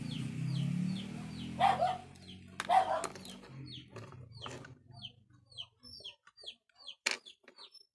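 A chicken clucks and squawks nearby, then a series of short, repeated clucks follows in an uneven rhythm over a low background hum.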